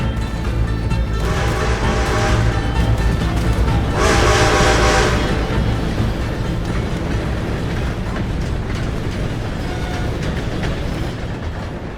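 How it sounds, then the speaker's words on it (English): A train passes close by in Red Dead Redemption 2 with a loud, continuous rumble and clatter of wheels, swelling in two brief bursts before easing off slightly. "Gotta beat that train"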